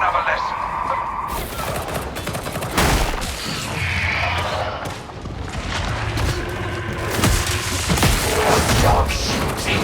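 Dense gunfire and booming blasts from the Warhammer 40,000: Darktide video game, with rapid bursts rolling on continuously under game dialogue and battle noise throughout.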